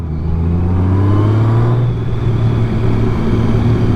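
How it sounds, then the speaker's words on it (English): A 2025 Honda Goldwing 50th Anniversary motorcycle cruises along on a group ride, its engine a smooth steady drone with a slight rise in pitch, loud and continuous under rushing wind, with no talking. "All right, y'all, we out on the Honda Goldwing."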